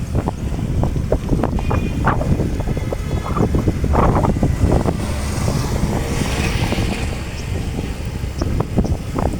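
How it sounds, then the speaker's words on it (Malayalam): Wind buffets the microphone steadily during a cool morning ride, with a low rumble and rushing noise throughout. "മോർണിംഗിൽ നല്ല തണുത്ത കാറ്റ്"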